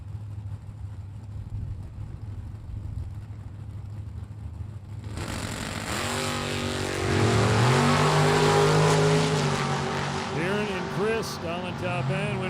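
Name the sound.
drag race, dragster versus Duster, Super Gas class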